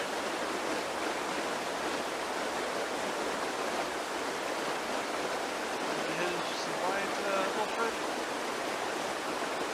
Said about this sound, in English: we will transport you back into the beautiful Black Hill Caves, which are incredibly loud.